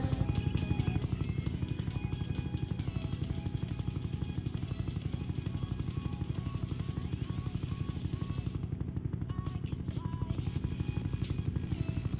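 A helicopter setting down, its rotor chopping in a steady rapid pulse that runs throughout, fairly close and continuous, with a brief hush in the high end near the end.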